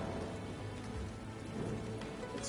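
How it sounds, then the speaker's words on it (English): Steady rain in the fantasy strategy video game Unicorn Overlord, a dense continuous hiss of falling drops with a low rumbling undertone, even and unbroken throughout. "it's only raining in the open spot."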